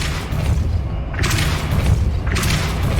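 A Depulso force spell cast in Hogwarts Legacy, heavy booming thumps with two sharper whooshing bursts near the middle and end, over a low rumbling game background.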